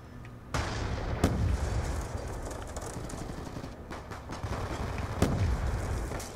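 In-game explosions and gunfire from Call of Duty: Black Ops 2, with several sharp blasts, one near the start, one shortly after and another late, each booming over a continuous rumble of battle noise.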